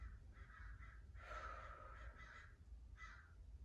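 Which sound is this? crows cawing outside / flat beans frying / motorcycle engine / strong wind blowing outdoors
crows cawing outside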